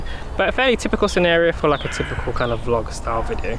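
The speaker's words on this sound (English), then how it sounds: "you can hear some crows in the background, a bit of wind" Crows caw several times in the background of a park with a little wind, while someone talks over them in the foreground throughout.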